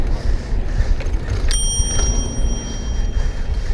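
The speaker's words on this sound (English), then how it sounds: "You're not using the bell for its intended use, my friend." A bicycle bell rings once, bright and close, with a lingering metallic ring above steady wind and the rumble of New York City traffic.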